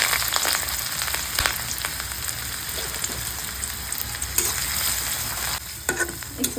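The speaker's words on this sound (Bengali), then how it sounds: "তো আমার তেল গরম হয়ে গেছে, এখন আমি রসুন আর পেঁয়াজটা দিয়ে দিলাম।" Garlic and onion fry in hot oil with a continuous close, bright sizzle, broken by scraping stir strokes throughout.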